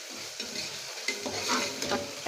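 Whole spices for vegetable biryani being stir-fried in a pan: cinnamon, cloves, bay leaf and cardamom. A steady oily sizzle is broken by several scraping strokes of a spoon against the pan, close and moderately loud, with no voices.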